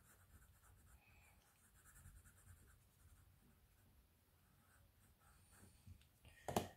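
A label is written by hand onto a probability diagram, giving faint, soft scratching strokes that come in short bursts, ending with a slightly louder tap of the pen.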